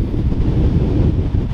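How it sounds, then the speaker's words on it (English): Loud, rumbling wind buffets the microphone at an open beach, a constant low roar with faint surf mixed underneath. "It's a little bit windy"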